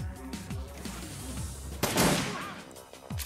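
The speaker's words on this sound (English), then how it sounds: "Shotgun." Shotgun fire in Shadowrun Returns, a single loud blast with a booming tail in the middle of the combat sounds, with a few sharp thuds before and after.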